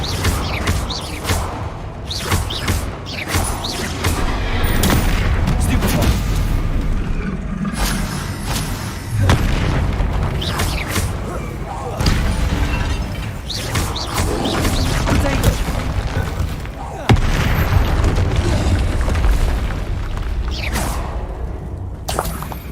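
Combat in the Hogwarts Legacy video game, with spell whooshes, booms and crashes in rapid succession over a dense, loud backdrop, including a fiery explosion spell.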